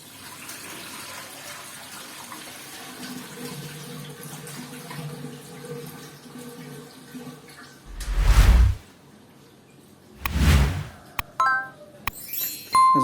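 Water drains from a hydroponic chicken fodder tray as a soft, steady trickle, followed by two louder splashing pours and a few light clinks near the end.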